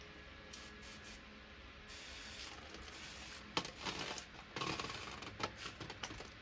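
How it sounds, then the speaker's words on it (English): Hand spray bottle misting newly mounted Lepanthes orchids, a run of short breathy spritzes at close range, quiet and alone with no talk. "Now I'll just give them a little bit of a spritz."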